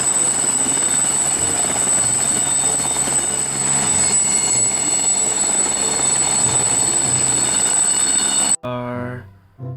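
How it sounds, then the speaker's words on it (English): A helicopter drones loud and close with a dense, constant rotor and engine roar that stops abruptly near the end. "Wow, this is helicopter."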